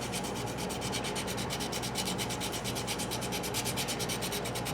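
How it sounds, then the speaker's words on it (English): Sandpaper rubbing back and forth along one line of pinewood on a derby car, a steady close rasping scrape that stays even and continuous with no talking. "We're only sanding this line."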